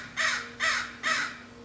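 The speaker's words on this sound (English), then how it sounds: "Crow." A crow caws three times in an even rhythm, each harsh call clear and moderately close, over a faint steady hum in an otherwise quiet setting.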